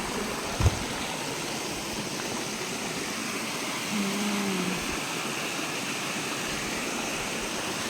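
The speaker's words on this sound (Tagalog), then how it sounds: "Kami dumaan ni Mama sa sapa." A farm creek running over slippery rocks fills the whole stretch with a loud, constant rushing wash, close by. A brief low tonal call rises over it near the middle.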